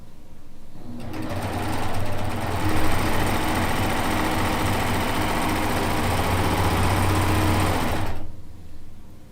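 A sewing machine stitches two quilt pieces together in one steady, continuous run of fast whirring and rattling, close and loud, starting and stopping abruptly.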